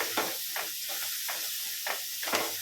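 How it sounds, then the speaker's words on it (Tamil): Fresh mint leaves frying in hot oil while cooking a spiced meat dish: a steady, close hiss rises into several short crackling surges, with no voices. "புதினா வந்து இந்த எண்ணெயிலேயே வதங்கணும்"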